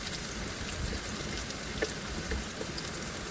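Steady sizzling of an onion-free masala of cumin, asafoetida, green chilli and garlic frying in mustard oil in a kadhai, a constant dense crackle without pauses or voices.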